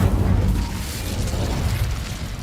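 Low rumbling blast of an Incendio fire spell in the video game SpiritVale, a loud boom at the start fading into a sustained crackling roar up close.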